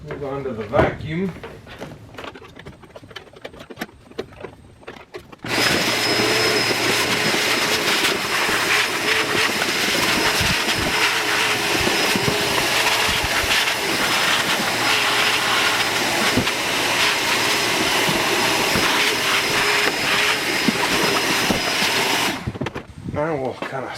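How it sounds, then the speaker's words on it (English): A vacuum cleaner runs on a camper van floor, switching on after a few seconds of quiet shuffling and droning loudly and steadily for about seventeen seconds before cutting off. "Now I'm going to go ahead and move on to the vacuum."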